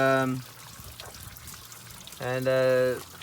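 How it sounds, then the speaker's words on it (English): Water gushes from a broken heater hose on a 1978 Datsun 1500 ute (GN620), a steady splashing pour running throughout beneath two short bursts of nearby voice. "She's just flooding water straight out."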